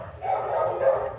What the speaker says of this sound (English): My dogs are going crazy downstairs.